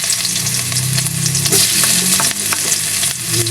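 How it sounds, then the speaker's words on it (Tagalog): Garlic sautéing in oil left over from frying galunggong fish, a loud, steady sizzle and crackle with occasional stirring scrapes in the pan, close up and with no talking. "Magigisa na natin yung bawang."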